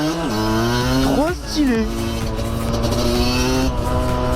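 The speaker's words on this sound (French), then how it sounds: "Une bagnole militaire?" Military vehicle driving past on a road, its engine rising and sweeping in pitch as it passes nearby before settling into a steady drone, with someone talking over it.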